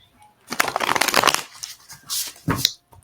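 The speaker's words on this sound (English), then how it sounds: "So let's just shuffle the cards." A deck of tarot cards being shuffled by hand up close, with a dense riffling burst for about a second followed by a few shorter, softer card flicks and slides, with no talking.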